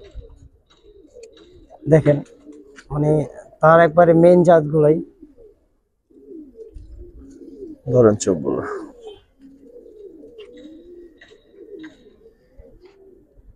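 Giribaz pigeons, silver black-necked birds, coo in short bursts close by, with someone talking over and between the calls.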